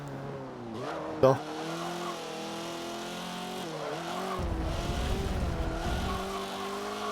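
A Nissan Skyline in Forza Motorsport 7 howls down a steep downhill section, engine pitch rising and falling through gear changes, with a sharp tire chirp early on, someone talking briefly over it.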